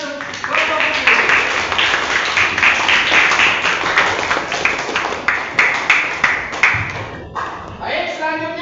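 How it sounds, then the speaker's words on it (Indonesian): An audience applauds a student group in a classroom, a busy patter of many hands clapping close by with some sharper claps and thumps, while voices talk over the applause. "Terima kasih sudah berikan tepuk tangan untuk kelompok ini"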